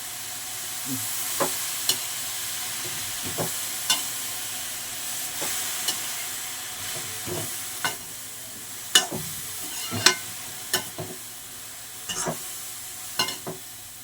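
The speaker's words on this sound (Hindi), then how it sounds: "गाजर को देसी घी में भून रहे हैं।" Carrots frying in desi ghee in a pan, a steady close sizzle and hiss broken by repeated scraping, stirring strokes at irregular intervals, with no voices.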